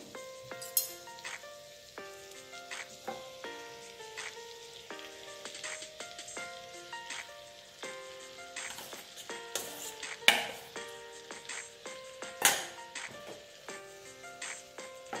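Cooked rice for veg fried rice being tossed in a hot spiced pan, with a soft sizzle and scattered clinks of a spatula against the pan, quiet under steady background music.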